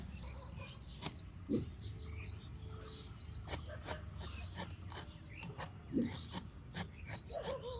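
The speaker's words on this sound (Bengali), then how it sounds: "এখন মাঝামাঝি কেটে ওই কইতাটা ফেলে নিই" A knife cuts through raw green jackfruit with quiet rasping, scraping strokes and a few sharper cuts, close but faint, over a soft outdoor background with occasional light bird or insect sounds.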